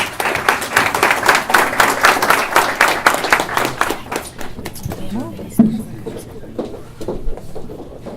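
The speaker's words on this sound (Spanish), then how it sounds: "le damos un gran aplauso y una gran bienvenida" An audience claps in steady applause welcoming a prosecutor at a garment and textile industry event, fading gradually as someone speaks over it in Spanish.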